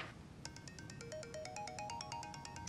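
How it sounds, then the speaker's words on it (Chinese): A mobile phone ringtone plays a bright, repeating electronic melody of evenly spaced tones, starting after a brief pause and continuing steadily at moderate volume over a quiet indoor background. "哎，我妈电话，我去接一下。"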